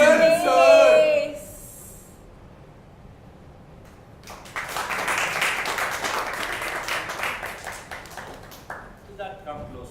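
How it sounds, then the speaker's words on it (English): At a playback theatre performance during a coffee harvest festival, voices speak first, then after a brief lull an audience breaks into several seconds of sustained, lively applause that tapers toward the end. "Big round of applause for Hannah, please."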